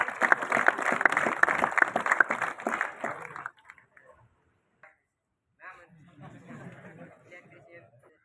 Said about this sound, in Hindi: Shri Mukesh, electrician 1st year से, जोरदार तालियों के साथ।